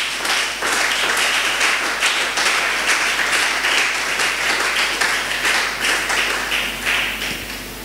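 A church congregation claps together in steady, sustained applause, a loud close wash of many hands that continues without letup, with a constant low hum underneath.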